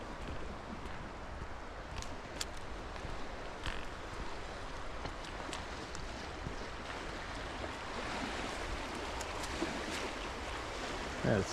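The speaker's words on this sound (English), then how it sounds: "it sounds like ocean crashing against the beach" Steady rushing of a stream flowing along a forest hiking trail on the Buckeye Trail, a broad continuous wash of water noise with faint wind, fairly quiet and without talking.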